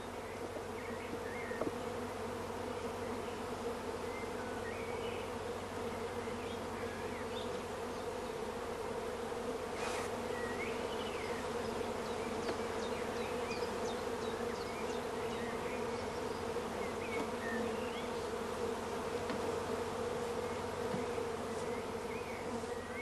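Steady, dense hum of many honey bees crowds a beekeeping swarm box, an even droning buzz that holds without pause, close and unbroken, with no voices.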